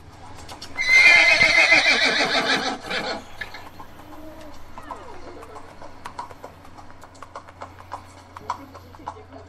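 A horse whinnies loudly up close in a long shrill neigh, then hooves clip-clop at a slower, fainter pace while birds coo in the background.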